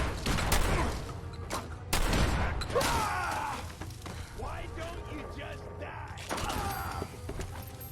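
A Fallout 4 shootout in a bar: sharp, close gunshots crack out in a few scattered bursts, with metallic clanks, creaks and voice-like game sounds filling the gaps between shots.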